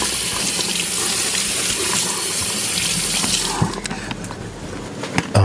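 Kitchen tap water runs steadily over a cucumber being rinsed, a loud continuous splashing stream that shifts and sputters near the end as the vegetable moves under the flow.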